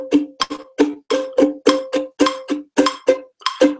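A ukulele strummed in a steady, quick rhythm with the thumb brushing up on the upstrokes, bright percussive strums repeating evenly and close up with no talking over them.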